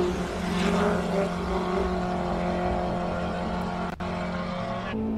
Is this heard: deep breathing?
no